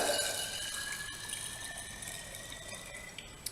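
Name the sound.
pouring water into a jar of sprouting seeds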